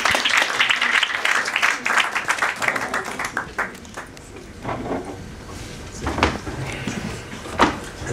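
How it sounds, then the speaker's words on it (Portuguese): Audience applause for a speaker at a cinema and poetry event, a dense burst of clapping that thins out over several seconds, leaving scattered claps and faint room noise. "Uma salva de palmas para o João Botelho."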